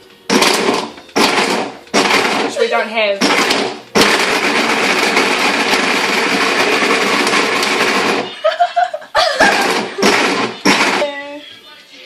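A powerful countertop blender whirring through coconut milk, cacao powder and dates, in loud bursts of varying length, the longest running about four seconds, with a person talking between the pulses.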